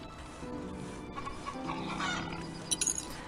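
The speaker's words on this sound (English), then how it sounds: "those chickens sound like they'll get very annoying" Chickens clucking in the video game Hearthlands, a busy flock chatter with a few sharper clucks near the end, moderately quiet.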